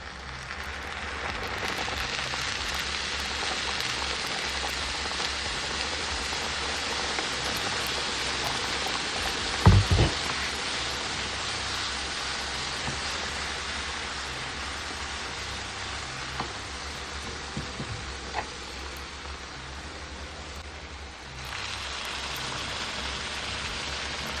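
Water bubbling and simmering in a pot for corned beef and rice, a steady hissing, rain-like wash throughout, with a couple of brief knocks or clatters near the middle.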